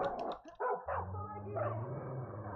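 A dog in the video game Far Cry 5 gives short barks and yips near the start, then the game's ambient rumble and effects carry on beneath it.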